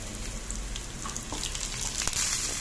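Curry leaves dropped into hot tempering oil for tomato pachadi give a steady close sizzle and crackle, with sharper pops near the end and no talk.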